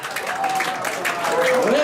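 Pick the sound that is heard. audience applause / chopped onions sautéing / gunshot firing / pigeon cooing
audience applause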